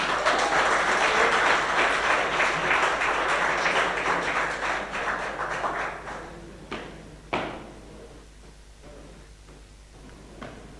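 Applause from a graduation audience at a police tactical training ceremony, dense and sustained for about six seconds, then thinning out into scattered claps and quieter room noise.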